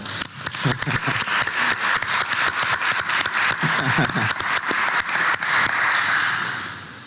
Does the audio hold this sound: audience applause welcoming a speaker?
yes